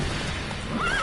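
A horse neighs in a PS4 video game, a short whinny rising near the end over steady background game ambience.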